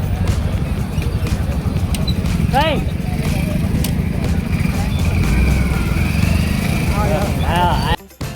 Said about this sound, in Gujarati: હવે આપણે બાઇક પાર્ક કરી લઈએ